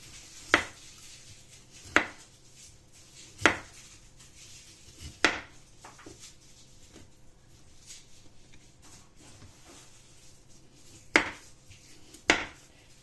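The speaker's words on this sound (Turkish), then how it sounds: "Yuvarlak şekilde patateslerimi doğruyorum." A knife slices potatoes into rounds on a cutting board, sharp knocks coming every second or so, pausing briefly midway before two more cuts.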